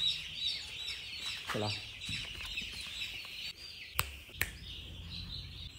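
Chickens feeding on a poultry farm cluck and call in a busy flock, steady at moderate distance, with a brief spoken word and a couple of sharp knocks.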